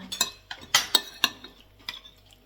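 Serving spoon clinking against a plate and pan while crispy pork and kale are scooped out, a handful of sharp, close metallic taps and scrapes spaced irregularly, with no talking.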